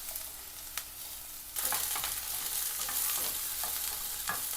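Onions dropped into hot ghee in a home kitchen, a quiet hiss jumping to a steady loud sizzle as they hit the pan, with occasional scrape and stir clicks over the frying.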